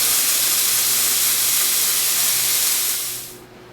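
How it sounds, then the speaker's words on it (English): A Sanremo espresso machine's steam tap lets out a loud, steady hiss of steam for several seconds, then cuts off and falls quiet at the end. "open the steam tap and release some steam for about 10-15 seconds."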